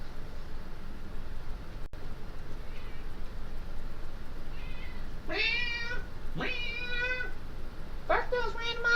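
A pet cat meows several times over steady background hiss, with a few drawn-out cries clustered in the latter half of the clip.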